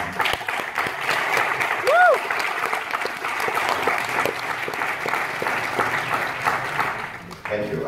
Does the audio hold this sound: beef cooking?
no